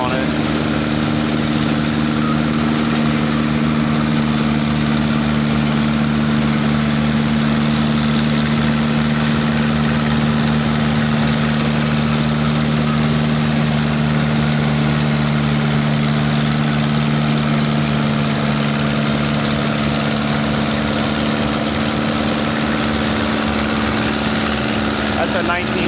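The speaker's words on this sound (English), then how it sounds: "That's a 1956 model. Notice it's got like a 4-cylinder gas motor on it." A 1956 tractor with a four-cylinder gas engine idles steadily and loudly throughout, a constant low rumble that never breaks, with people talking over it at an outdoor show.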